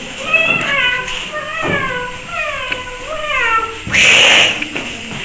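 A voice mimics a cat with several drawn-out, rising and falling meows, close and clear, ending in a brief burst of noise, during a primary school play.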